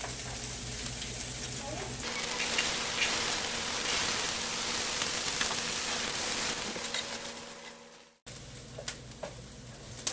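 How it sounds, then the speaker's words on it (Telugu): Large chunks of onion fry in a pan with a steady, dense sizzle that rises as they hit the hot oil and carries on close up until a brief break near the end. "ఇప్పుడు ఫస్ట్ మనం ఈ ఆనియన్స్ ఫ్రై చేసుకోవాలి"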